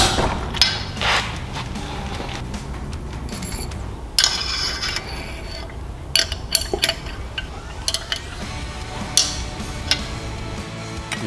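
Torque wrench clicking and ratcheting as cylinder head bolts are tightened to 40 foot-pounds over a new head gasket on a 625cc single-cylinder engine build, with sharp metallic ticks and clicks at irregular intervals, close and fairly loud in a quiet room.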